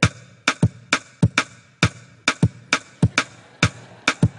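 A three-against-four polyrhythm played with two sharp, clicky percussive sounds: crisp close hits that interlock in a steady repeating cycle, loud and dry, with no talking.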